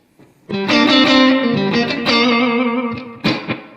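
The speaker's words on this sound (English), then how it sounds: "With the Nobels disengaged, here's the 68 Super Reverb. We're running straight in" An electric guitar played straight into a 1968 Super Reverb tube amp rings out with distorted sustained chords after a brief silence, loud and close, with a final strum near the end.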